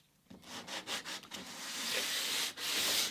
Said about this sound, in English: Swipe some sandpaper.